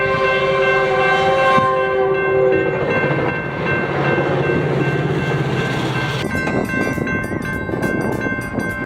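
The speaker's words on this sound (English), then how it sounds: "I noticed the southbound frontrunner flying through." A southbound FrontRunner commuter train speeds past along the northern Wasatch Front, loud and close, its horn sounding over a roaring rush of wheels and cars that continues steadily.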